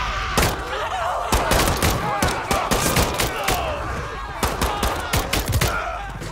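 Bursts of gunfire from the Modern Warfare III campaign, set in a desert, crack out in rapid volleys and single shots across the whole stretch, loud and close with dense overlapping reports.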